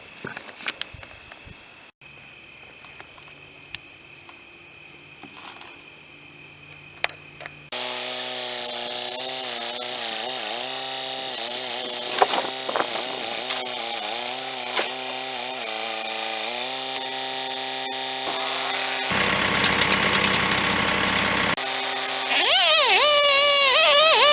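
A tractor-powered sawmill runs with a loud, steady mechanical whine and grinding, starting after a quiet stretch of clanks and continuing with shifts in pitch.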